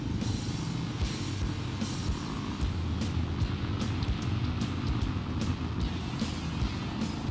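A Kawasaki KLR 650 motorcycle rides over country gravel roads, with a steady engine drone and a constant crunching rattle of stones under the tyres, close and unbroken, with no talk.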